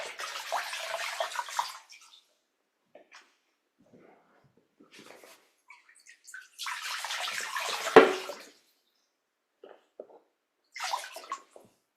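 Water splashes and pours as feet are rinsed in a bucket, in two main bursts of sloshing with a brief faint return near the end, separated by quiet gaps with small drips and movements.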